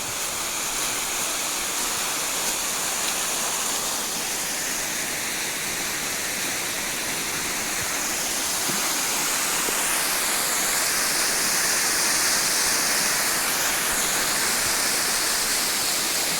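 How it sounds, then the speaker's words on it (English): A waterfall roars in a constant, dense hiss of rushing water, loud and unbroken from start to finish. "But here's that beautiful waterfall."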